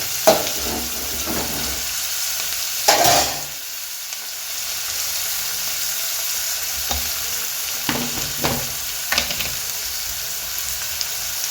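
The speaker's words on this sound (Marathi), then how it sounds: "आता आपल्याला कांदा लाल करून घ्यायचा आहे, सोनेरी रंगावर परतायचा आहे कांदा" Chopped onion sautés in hot oil for methi bhaji, a steady close sizzle broken by occasional scraping stirs and a louder clatter of the spoon against the pan.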